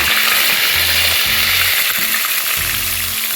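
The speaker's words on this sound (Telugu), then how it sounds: "కొద్దిగా జీలకర్ర వేసాను. కరివేపాకు వేసాను." Cumin seeds and curry leaves sizzle in hot oil at the start of a small-fish pulusu curry: a close, continuous hiss of frying, with low rhythmic knocks beneath it.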